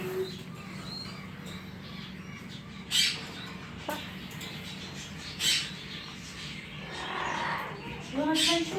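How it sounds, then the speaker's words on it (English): African grey parrot in a pet store giving a few short, sharp squawks and chirps, fairly close, spaced over a quiet background murmur of the shop. "Oh, look, there's another African gray."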